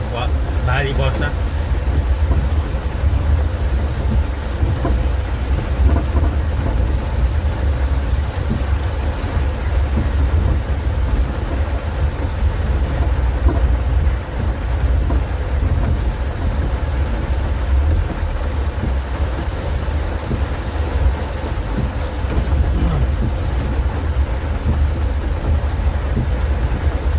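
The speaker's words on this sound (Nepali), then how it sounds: "आज तरराको बजारमा भारी वर्षा" Heavy monsoon downpour with thunder over the market in Tarahara, Nepal, a steady loud wash of rain and low rumble running continuously throughout.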